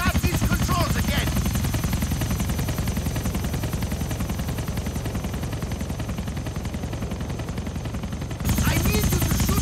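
An air crane helicopter in a Grand Theft Auto game flies close and loud, its dense rotor chop steady throughout, with possible gunfire mixed in and a brief cut near the end.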